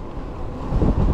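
Strong wind roars into the microphone while riding a Vakole CO26 full-suspension fat-tire e-bike, a steady, loud buffeting rumble that swells toward the end.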